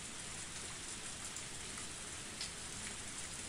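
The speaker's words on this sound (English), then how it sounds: "Even in this torrential downpour" Heavy, steady torrential rain from the video game Higurashi When They Cry, a dense unbroken hiss of downpour with no voices, holding at an even loudness throughout.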